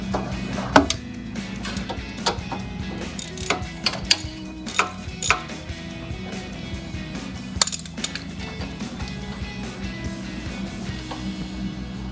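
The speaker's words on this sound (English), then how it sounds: "we're going to take the bolt off right here and pop the tab right down there" Tools work at a bolt on a 2005-2010 Mustang GT's suspension during a Roush Stage 2 kit install, producing close, sharp metallic clicks, ticks and clinks at an irregular pace over a low background hum.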